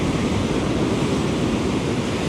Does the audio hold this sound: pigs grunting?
no